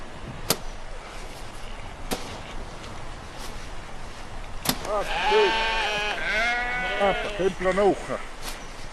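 A few sharp clicks, then several sheep bleat in overlapping, wavering cries in the snow, fairly close, against a quiet outdoor background.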